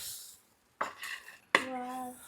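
Cooked tapioca being stirred in a pot, with two distinct metallic scrapes and clanks of a spoon against the vessel separated by a brief silence, close and fairly quiet.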